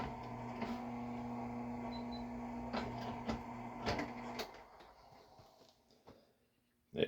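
A shotshell reloading press crimps a 12 gauge shell loaded with 1 1/8 oz of #8 shot, giving a quiet mechanical hum with a few soft clicks and knocks that fades out, then a sharp clack at the end.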